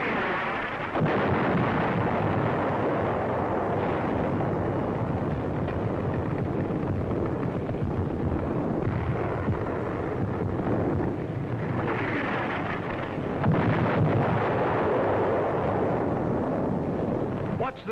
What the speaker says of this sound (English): Our artillery begins to find the range.